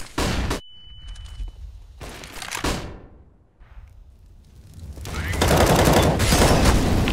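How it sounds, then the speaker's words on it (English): In a CS:GO competitive match, a thrown flashbang grenade lands among sharp, loud bursts of gunfire, with a brief high ringing tone and scattered game noise between the blasts. "Throwing flashbang."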